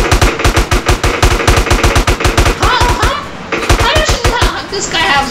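Rapid automatic gunfire from police in Grand Theft Auto San Andreas, loud and steady bursts of repeated shots running throughout, with brief sharper cracks mixed in.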